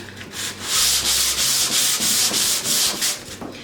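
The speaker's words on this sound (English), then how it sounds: "So what I'm going to do is first sand this down." Sandpaper is rubbed by hand back and forth across a secondhand wooden organizer in steady, close, raspy strokes that continue without a break.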